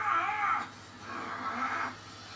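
A cat meows in Batman: Arkham City, giving two drawn-out, wavering yowls that are loud and close, one after another, with no talking over them.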